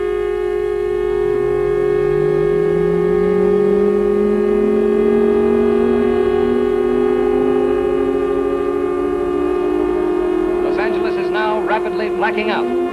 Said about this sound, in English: There go the blackout sirens now